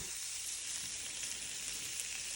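Steady, loud sizzling of chicken fillet frying in a hot pan, a continuous crackling hiss with no voices.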